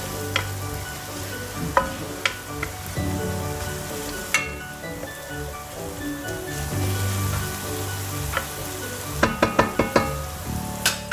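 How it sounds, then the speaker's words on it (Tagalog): Onions frying in a pan make a soft steady sizzle, broken by scattered sharp scrapes and clicks of stirring. "And then our onions until it's soft. Okay, and fry them."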